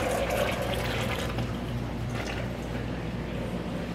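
Water overflowing in a Reynolds Tech wet bench, a steady, loud rushing and splashing flow that holds constant throughout with no pauses.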